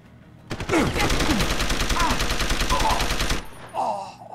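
Rapid automatic gunfire rattles out in a sustained burst of about three seconds from a gun in the video game Deus Ex: Human Revolution, loud and close, then stops abruptly, followed by fainter game effects.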